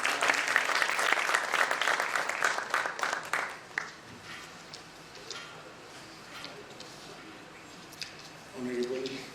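An audience in a convention hall at a Hindu Economic Forum summit in Pune breaks into dense, loud applause that fades after about four seconds into scattered claps and room murmur, with a voice at the end.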